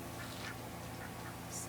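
Young ducks in a backyard chicken and duck run give a few soft, faint quacks and peeps over a steady background hiss, with a brief higher-pitched call near the end.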